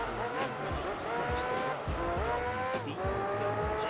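F-090 race cars in Gran Turismo 3 howl with high-revving engines, pitch climbing and dropping sharply through quick gear changes over several cycles, loud and close with no voices.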